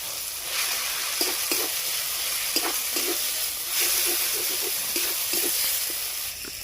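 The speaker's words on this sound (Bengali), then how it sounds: "কাঁচা লঙ্কা কুচানো আদা রসুনটা ভালো করে ভেজে নিয়েছি দিয়ে দেবো পেঁয়াজ বাটা" A paste of green chilli, ginger, garlic and onion fries in a pan with a steady hiss and sizzle, punctuated by light, repeated stirring scrapes and taps.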